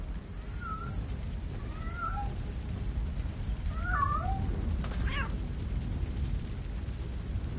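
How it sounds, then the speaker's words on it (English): A few short cat meows in a PS5 video game rise over a steady low rumble of game ambience, with a brief bright burst near the end. "I hear a kitty."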